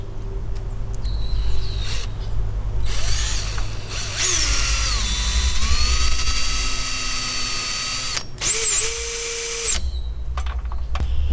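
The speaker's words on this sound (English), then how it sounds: "Get a drill bit and just kind of start a hole in the middle," A power drill whirs in several bursts as it starts a hole in the center of a screw, its motor pitch rising and settling, with short stops and restarts between runs; loud and close, no talking.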